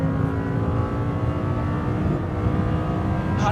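Audi R8 with nearly 520 brake horsepower accelerating hard on a race track, a loud, steady engine roar with rising harmonic tone running continuously up close.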